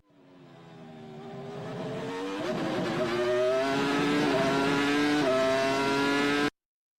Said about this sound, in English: the one thing that remains in the forests of the Hockenheimring is the screaming engines from past eras of Formula 1